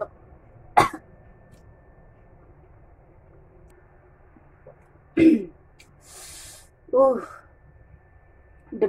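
A person coughs while eating crispy fried fish, with a few short, separate bursts of coughing and throat clearing close to the mic over a quiet room background.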